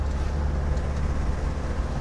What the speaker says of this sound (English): Engine runs super smooth.